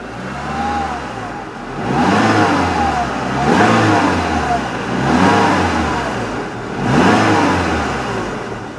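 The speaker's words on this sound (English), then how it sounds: "what it sounds like when it's revved" A Mazda 3 Sport engine revs up repeatedly, rising and falling in four or five swells, loud and close, with a steady idle rumble between.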